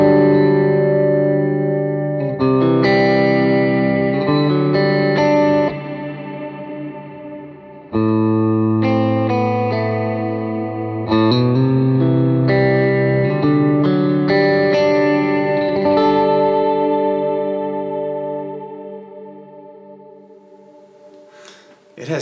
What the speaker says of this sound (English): the Black Hole from Eventide, this huge ambient reverb